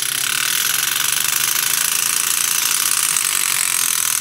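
A small hammer handpiece tool tapping at very high speed, giving a steady, dense buzzing chatter of tiny rapid hits at constant loudness with no pauses, close by and alone.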